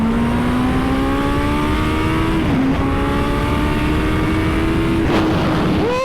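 Turbocharged Suzuki Hayabusa motorcycle engine pulls hard under acceleration, a loud, continuous rising whine that climbs through a long gear, dips briefly at a shift, climbs again and shifts once more near the end.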